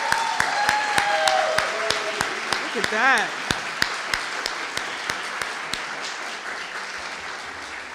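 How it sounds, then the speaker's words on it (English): Inductees at an honor society induction ceremony clap for themselves, sharp regular claps standing out over a softer wash of crowd applause, while a speaker talks briefly over it. "Clap for yourselves first."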